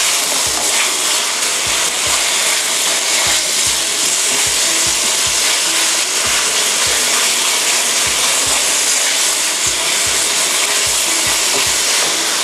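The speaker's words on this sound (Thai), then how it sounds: "ใส่เนื้อหมูลงไปนะคะที่เราหมักไว้เรียบร้อยแล้ว ผัดให้เข้ากันนะคะ" Marinated pork being stir-fried in a hot pan, a loud, steady sizzle with repeated scraping and stirring strokes throughout and no talking.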